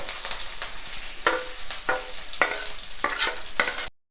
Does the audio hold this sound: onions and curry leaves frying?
yes